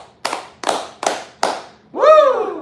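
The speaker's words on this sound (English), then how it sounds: "So how about 5 claps" Four sharp, evenly spaced hand claps ring out close and loud in a quick rhythm, followed at once by a long, loud vocal whoop.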